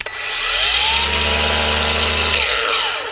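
A Ryobi R18P-0 cordless dual action polisher runs steadily for about three seconds, giving a loud, close motor whine with a buzzing hum and a slight pitch sweep as it spins up and winds down, with no talk.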